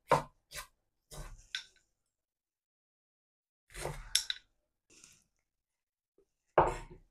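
Bitter gourd being cut in a home kitchen: a few sharp knife chops in quick succession, a pause, then another small cluster of cuts and one last chop, close and fairly crisp.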